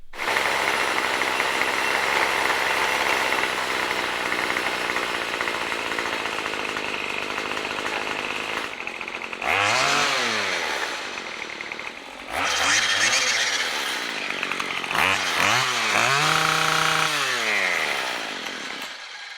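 A small engine runs steadily and loudly for several seconds after being started, then drops off and is revved repeatedly in rising and falling bursts as its idle is adjusted.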